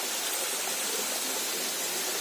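Waterfall at Rameshwar Mahadev temple in Bundi pours as a continuous, dense roar of rushing water, steady and close with no talking.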